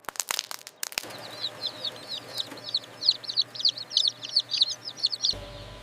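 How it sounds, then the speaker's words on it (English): Newly hatched chicks from a batch of eggs, many small voices peeping in rapid, overlapping high chirps amid a low steady machine hum, fairly close, after a few sharp knocks at the start. "Many small chicks are hatching from these eggs."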